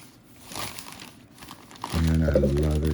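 Packaging crinkles in short, close rustles as rare Madagascar orchid plants are unwrapped, ending in a louder burst of crinkling.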